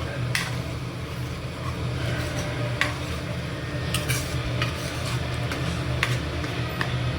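Capsicum, paneer and corn sabzi with Kashmiri chilli stirred in a pan, a spoon making repeated sharp clinks and scrapes against the metal over a low steady hum and faint sizzle.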